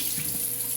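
Tap water running steadily into a sink while a straight razor is rinsed, a brief close continuous splash with no voices.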